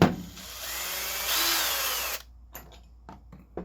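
A power drill spins a wood plug cutter through a board, a loud steady grinding whir that rises in pitch for about two seconds, then cuts off, leaving a few faint clicks and light handling noises.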